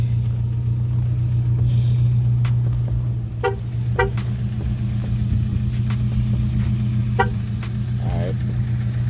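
A Chevrolet Camaro engine runs in snowy winter weather, holding a steady, low, even rumble for the whole stretch with a few faint clicks and knocks on top.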